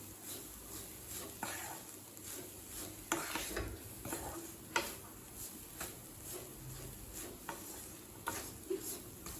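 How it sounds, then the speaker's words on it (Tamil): Grated coconut and semolina roast in ghee while being stirred, giving quiet, rhythmic scraping strokes over a faint crackle, fairly close and without voices. "தேங்காயை நல்லா வதக்கிக்கலாங்க."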